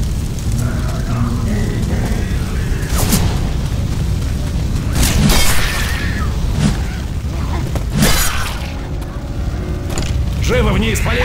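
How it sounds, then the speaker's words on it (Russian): Weapon reloading in the zombie shooter Left 4 Dead 2, loud mechanical clicks and clacks of the gun amid constant rumbling game noise, with a few sharper metallic hits spaced through it. "Перезаряжаю."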